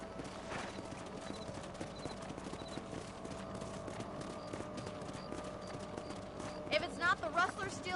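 Horse hooves clop in a steady galloping rhythm in the Red Dead Redemption video game, moderately loud over faint background music, with a horse whinny near the end.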